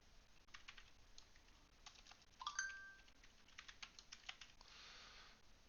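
Quiet clacking on a computer keyboard, a run of quick irregular keystrokes close by, with a brief tonal blip midway and a soft hiss near the end, no talking.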